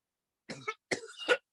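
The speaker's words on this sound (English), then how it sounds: "That's not a Corona cough." Two short, sharp coughs close to the microphone, separated by a brief pause.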